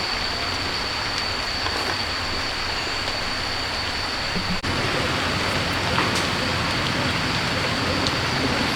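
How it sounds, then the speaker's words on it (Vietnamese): Steady all-day rain in a village, dense even hiss of drops on surfaces close by, continuous and unbroken with a faint high tone running underneath. "Mưa cả ngày luôn."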